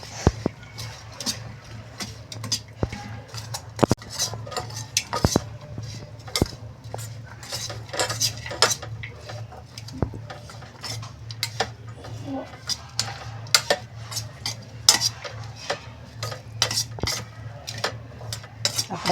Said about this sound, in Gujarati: ઓરેગાનો નાખીશું ચાટ મસાલો નાખીશું હવે આપણે બધું એને મિક્સ કરીશું